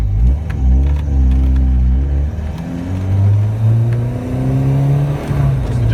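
A turbocharged Callaway Rabbit car engine hums steadily while driving gently off boost, its loud, close drone rising and falling in pitch through gear changes.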